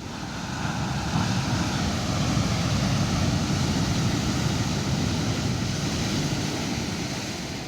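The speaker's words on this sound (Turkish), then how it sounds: "Dalgalar çok güzel." Ocean waves washing onto the shore on a cold day, a steady loud roar of surf mixed with wind noise on the microphone, continuous throughout with no talk.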